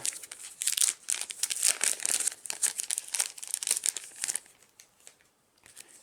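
Crinkly wrapping on a pack of Isle of Cats game cards is handled up close, a busy run of crackling and rustling that eases off toward the end, with no talking.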